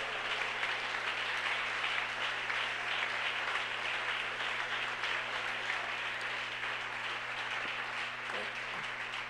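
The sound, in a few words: applause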